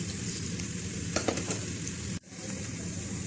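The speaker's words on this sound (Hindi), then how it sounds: "यहाँ पे मेरा प्याज है वो अच्छी से फ्राई हो रहा है" Chopped onion fries in oil in a pan toward golden, a steady close sizzle with a brief burst of stirring clatter in the middle and a short drop in the hiss near the end.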